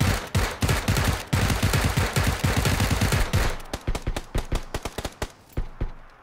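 Gunfire in a shooter video game: dense, rapid strings of loud close shots at first, then thinning into sparser, separate bangs near the end.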